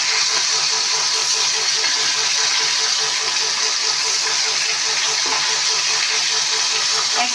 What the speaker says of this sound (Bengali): একদিকে মুড়োটা ভাজা হচ্ছে হোক